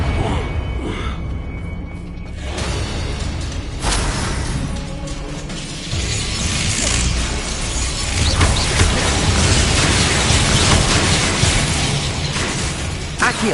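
Confringo blasting spell from the Hogwarts Legacy video game, a string of loud explosive bursts and crackling booms rolling on for over ten seconds amid dense game noise.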